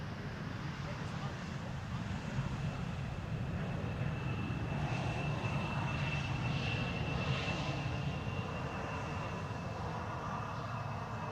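A fixed-wing airliner arriving from Athens roars steadily at Amsterdam Schiphol Airport on a sunny day, a continuous distant engine rumble that swells slightly midway, with a voice talking over it.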